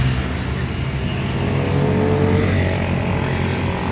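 Motor traffic with motorcycles hums past outside Heritage Memorial Park in Taguig, a continuous wash of engines and passing vehicles with no voices over it.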